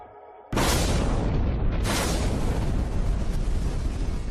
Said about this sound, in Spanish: la explosión del reactor número 4